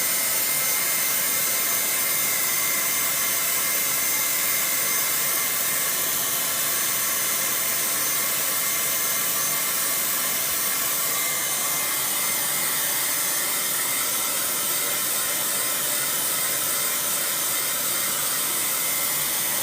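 A hair dryer blows on a freshly painted canvas: a loud, steady, close whooshing roar that runs unbroken for about twenty seconds with no talking.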